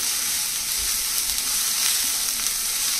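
Crushed garlic fries with onions in a pan for a sprouted chana sabzi, a constant close, bright sizzle and hiss with faint stirring beneath, running evenly throughout without speech.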